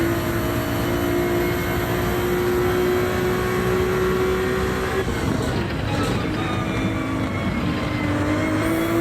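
Race car engine in a racing video game on the Nürburgring GP loop, a steady loud engine tone rising then dropping as it shifts up to fourth gear partway through, droning on continuously.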